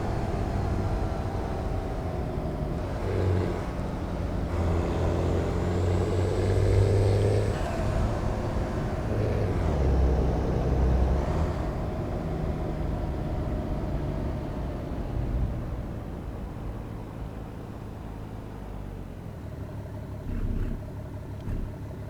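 Truck engine in the American Truck Simulator video game, a steady low rumble that rises and falls as it accelerates, holding a continuous drone throughout.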